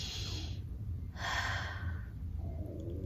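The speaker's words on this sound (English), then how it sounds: "we can choose to calm down by taking a deep breath" A deep, calming breath drawn in and let out slowly, with a breathy hiss of inhaling followed by a longer exhale, close and alone.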